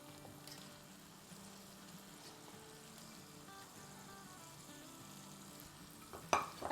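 Mutton keema hits hot oil in a pan and fries with a low, steady sizzle and stirring scrapes, fairly faint and close, ending with a couple of sharp utensil clatters.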